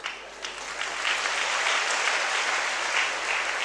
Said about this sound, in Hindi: मैं ताली बजाता हूं